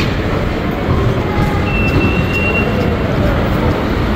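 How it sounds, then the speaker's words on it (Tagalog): Steady rumble of a train on the way to Madrid, a continuous loud roar of wheels and carriage noise from inside, with a faint high whine partway through. "Minutes ang biyahe ko sa tren papunta doon sa Madrid."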